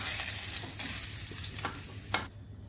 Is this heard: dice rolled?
no